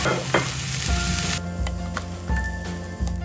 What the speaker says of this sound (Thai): พอหัวหอมใหญ่เราเริ่มสุกนะคะดูก็จะใส่ ใบกะวานอบเชยแล้วก็ใบโรสแมรี่ลงไปผัดด้วยกันนะคะ